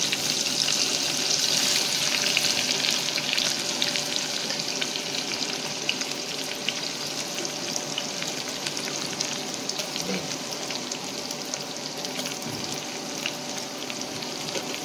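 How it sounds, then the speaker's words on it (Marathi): Onion frying in a pan with garlic and curry leaves, a steady dense sizzle with occasional stirring scrapes and faint watery crackle, close and continuous throughout, with no talking. "तर कांदा व्यवस्थित फ्राय करून घ्यायचा."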